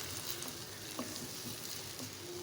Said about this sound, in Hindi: अब हम इसमें शामिल करेंगे 1 मीडियम साइज़ का टमाटर, ये शामिल करेंगे और इसको अच्छे से फ्राई करेंगे